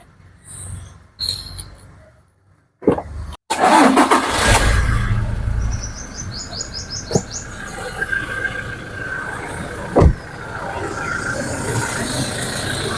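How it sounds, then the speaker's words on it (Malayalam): A Toyota Fortuner SUV cranks and fires up after a few quiet moments and handling noises, then settles into a steady, fairly loud idle, heard nearby with a brief rev. "ഇനി നമുക്ക് ഈ വാഹനം ഒന്ന് സ്റ്റാർട്ട് ചെയ്ത് ഇതിൻ്റെ സൗണ്ട് ഒന്ന് കേൾക്കാം"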